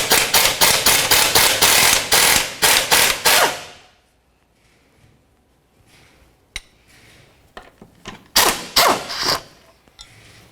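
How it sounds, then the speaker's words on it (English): A 14mm ratchet clicks in quick rapid bursts removing subframe cross beam bolts on a 2004-2006 Scion xB, loud and close, then a quiet pause with a few clanks before more ratcheting. "Use a 14mm to remove each of the bolts and then the rod."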